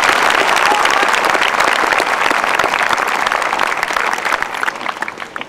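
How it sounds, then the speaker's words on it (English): Sustained audience applause at a high school graduation ceremony in Vernon, Connecticut, a dense, steady wash of many hands clapping that holds loud throughout and only begins to thin slightly toward the end. "Please give them a round of applause."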